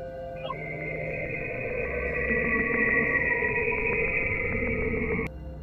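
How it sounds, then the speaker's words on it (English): Saturn's radio emissions converted to audio, a steady eerie electronic tone held for several seconds with faint pulsing ripples over a low rumbling bed, ending abruptly with a sharp click. "Saturn emits radio waves, deep, oscillating pulses that can be picked up and translated into audio."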